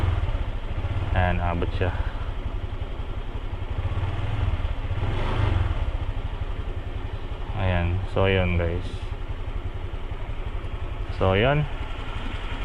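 A Honda Click 150 scooter with a low idle problem runs with a steady mid-pitched engine drone, rising in revs a few times while someone talks over it.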